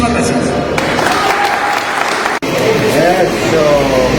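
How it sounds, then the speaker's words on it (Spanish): Crowd clapping at an outdoor public event and festival exhibition opening, a continuous burst of applause from many people with a brief dropout midway, mixed with voices and some music. "¡Aplausos!"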